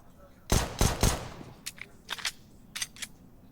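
Dual Berettas and other guns fire in a Counter-Strike match on Vertigo, with three loud close shots followed by scattered softer bursts farther off.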